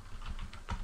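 Typing on a computer keyboard: a few soft, quick key taps in a short burst, faint and close, with no talking.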